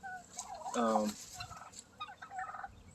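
A turkey lets out a short, rattling gobble, followed by a few softer clucking calls nearby.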